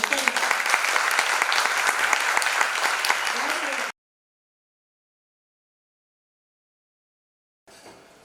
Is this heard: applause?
yes